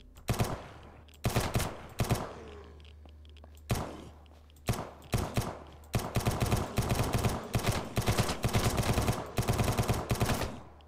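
Bursts of gunfire from a weapon in the survival shooter SurrounDead: scattered single shots at first, then rapid near strings of repeated shots, loud and close with brief gaps between volleys.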